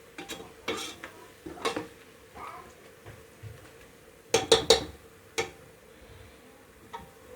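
Onions browning in a pot for Delhi-style degi mutton biryani, stirred with a metal utensil: a run of clinks and scrapes against the pot, with a tight burst of sharp knocks midway over a soft sizzle.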